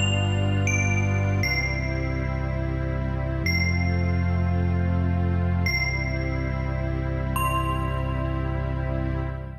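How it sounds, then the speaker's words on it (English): Crystal Bell voice on an EZ series keyboard playing a slow run of sustained, shimmering bell tones over held low chords, loud and clear with no talking. "there's a bell called Crystal Bell"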